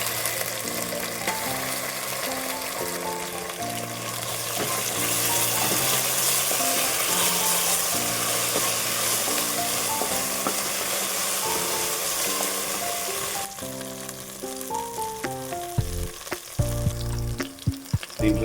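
Browned onions frying with ginger garlic paste for mutton keema, a loud continuous sizzle with stirring, under a musical background that drops out near the end as scraping clatters come through.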